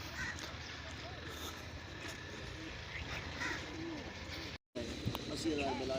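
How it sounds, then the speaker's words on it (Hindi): Pigeons coo in a village setting, soft repeated calls sitting low beneath steady outdoor noise while someone talks over them; a brief dropout cuts the sound near the end. "ये कबूतर हैं।"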